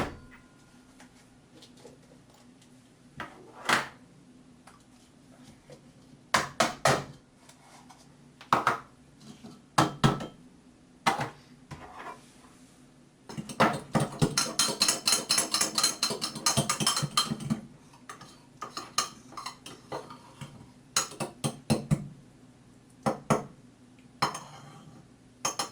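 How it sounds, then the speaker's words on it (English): Spoon clinking and scraping against a mug while dry ingredients are stirred into wet ones for a low-carb microwave bagel bun, with irregular taps and a denser burst of rapid clinks midway, close and moderately loud, no talking. "I am now putting the dry ingredients into the wet ingredient and thoroughly mixing."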